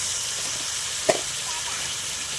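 Chicken sizzles steadily in spices in a pan, a constant close hiss with one brief clack of a utensil midway.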